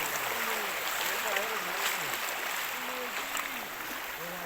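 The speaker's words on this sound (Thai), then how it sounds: "น้ำไหลนะครับ" Water flows steadily in a natural stream, a continuous broadband rush with someone talking over it in Thai.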